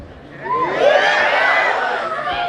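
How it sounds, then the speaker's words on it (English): Hostel students in an auditorium break into a loud burst of cheering and shouting that swells quickly, holds for a couple of seconds, then eases off. "Hostelers, give me a cheer"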